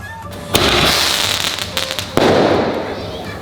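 A mini toy firework cracker bursts in the sky with two loud, sharp bangs about one and a half seconds apart, each followed by a fizzing, crackling tail.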